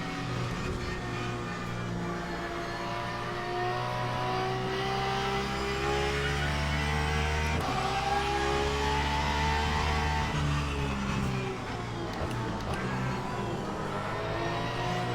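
Race car engine sound from the Le Mans Ultimate racing sim: a continuous high-revving roar rising through gears with brief shifts and dips, loud and sustained for the whole stretch, no voices.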